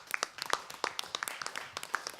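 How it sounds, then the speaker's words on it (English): Scattered audience clapping at an international academic conference as a speaker takes the podium; sparse, irregular claps rather than a full ovation, fairly faint and with no talk over it. "Let's give him a round of applause."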